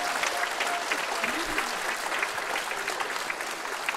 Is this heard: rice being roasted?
no